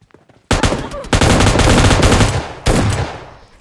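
Loud, close bursts of M249 machine gun fire from a video game, rapid sustained automatic shots in two strings separated by a brief gap.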